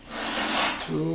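A hand file rasps across chainsaw teeth from a Stihl or Husqvarna file kit in one close, loud forward stroke, followed by a voice starting to speak.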